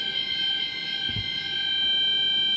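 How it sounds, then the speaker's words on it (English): A fire alarm goes off in a conference hall during an oncology congress talk, a steady, loud, high electronic tone with one brief low thump partway through. "maybe this was alarm for me to finish"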